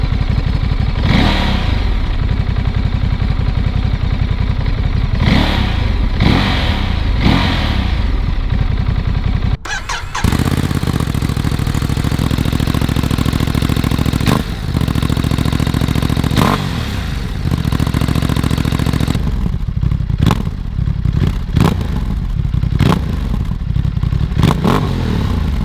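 A loud Ducati DesertX motorcycle with an aftermarket exhaust revs repeatedly, sharp throttle blips rising and falling with a deep rumbling idle between them, close by and continuous.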